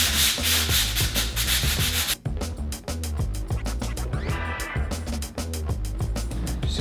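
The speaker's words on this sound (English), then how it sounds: "now we just got to sand it down so we can prime it and paint it" Drywall joint compound on a wall is sanded by hand in loud, rhythmic back-and-forth scraping strokes close to the listener, with brief pauses between passes.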